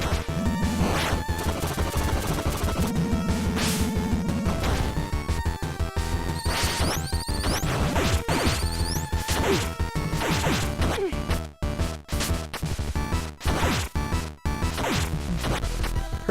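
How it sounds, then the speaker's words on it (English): Chiptune-style gameplay audio from Bloodstained: Curse of the Moon, with bouncy retro music and repeated sharp hit and damage effects, crashes and bursts throughout, loud and busy with no talk. "Her damage sound is a little too high fidelity for the system they're trying to sound like"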